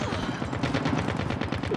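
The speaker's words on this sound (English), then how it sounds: "Friendly sentry gun deployed." A deployed sentry gun in a first-person shooter on a hardpoint match fires a steady rapid burst of shots, loud and close, running continuously with no speech over it.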